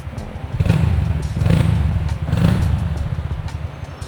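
A Honda Dax-style mini motorcycle with a full-system exhaust idles nearby, a low, mellow bassy putter with gentle rhythmic swells and a faint clatter.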